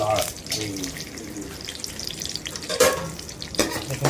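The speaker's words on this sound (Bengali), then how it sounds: "ঘিয়ের একটু মধ্যে আমরা কাজু বাদামটাকে হালকা ই করে নিলাম ফ্রাই করে নিলাম" Cashew nuts fry in ghee while being stirred, a soft sizzle broken by bursts of clatter and scraping, with a brief watery splash partway through.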